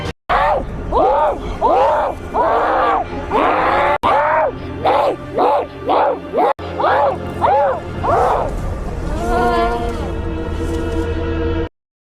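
A voice in a Hindi audio drama screams and shouts as the jinn Keenan, a long run of loud, strained yells and groans rising and breaking in repeated bursts, ending in a sustained anguished wail.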